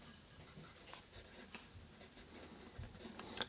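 Graphite scratching steadily across paper from a Tombow recycled pencil, a soft continuous scribble heard close up with small rhythmic strokes and no talking.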